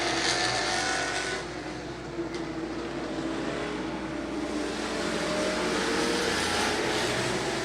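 Race cars in a 2016 super short track racing series roar steadily and loudly, a dense continuous engine drone that dips briefly before swelling again as the pack circles the track.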